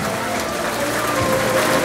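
Audience at a primary school graduation ceremony clapping steadily for a graduate, a dense, even patter of many hands that holds at constant loudness throughout.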